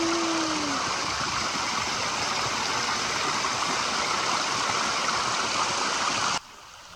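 A mountain stream rushes in a steady, dense wash of water close by, with a brief faint tone at the start before the sound cuts off abruptly near the end.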